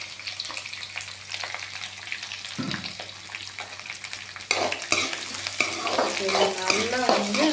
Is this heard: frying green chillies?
yes